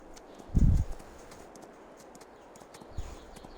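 A horse in Farming Simulator 22 gives a short cluster of hoof clip-clops, then one softer hoofbeat a few seconds later, over quiet background ambience.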